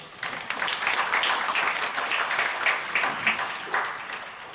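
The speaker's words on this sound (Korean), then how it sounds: "예, 뜨거운 박수 보내주시고요." An audience at a Korean Presbyterian commemorative worship ceremony applauding, a dense sustained wash of many hands clapping from start to finish.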